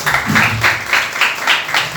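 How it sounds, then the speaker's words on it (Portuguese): Church congregation applauding during a sermon, a steady mass of clapping with rhythmic swells roughly every quarter second, close and moderately loud with no talk over it. "Aplauda ao Senhor Jesus."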